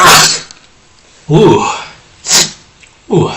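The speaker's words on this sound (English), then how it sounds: "That was a sneeze." A single sharp sneeze bursts out at the start, loud and close, during a game of Go; a short exclamation and more speech follow.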